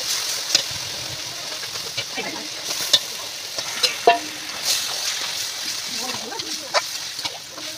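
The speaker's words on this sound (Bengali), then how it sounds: "এই দেখো কি সুন্দর করে মামি মশলাটা কষিয়ে নিচ্ছে।" Spice paste for a meat dish being sautéed and stirred in a pan, a steady sizzle with scattered spatula scrapes and clicks, close and moderately loud throughout.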